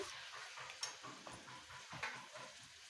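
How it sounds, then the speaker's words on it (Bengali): Chicken pieces and onions frying and being stirred in a pan for a peas-and-chicken dish, a steady close sizzle with occasional scraping clinks of the spoon. "এবার ভালো করে ভেজে নিচ্ছে।"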